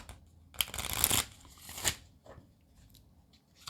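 Healing angel therapy cards shuffled by hand in a few quick riffling bursts, close and crisp, with short pauses between them and no talking.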